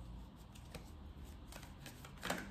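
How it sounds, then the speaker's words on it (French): A deck of oracle mirror cards is shuffled by hand, a soft, faint papery riffling under quiet room noise, with a slightly louder flutter of cards near the end. "On prend l'oracle des miroirs. On va mélanger."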